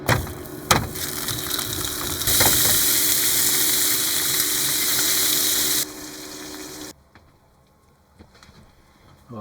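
Food sizzles and crackles steadily in a pan inside a motorhome kitchen, a loud broadband hiss that holds for several seconds before dropping away to quiet near the end.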